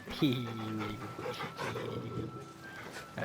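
A dog whimpers and whines in the video game Final Fantasy 16, a short rising whine near the start followed by soft panting, heard under a person talking.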